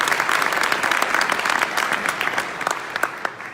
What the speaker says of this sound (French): c'est à vous qu'on doit donner la plus belle main d'applaudissement